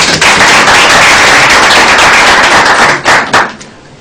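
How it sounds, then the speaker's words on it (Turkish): Audience applause at a party congress, a dense, loud, steady wash of clapping that fills the room, then breaks into a few sharper bursts and fades toward the end. "Bir alkışlayalım"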